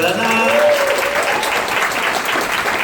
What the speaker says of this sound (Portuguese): Palmas para a Savana.